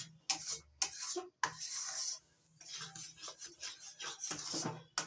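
A spoon rubs and scrapes through thickening semolina cake mixture in a pan, drying out the syrup. The close, gritty strokes run in rhythmic bursts with brief pauses.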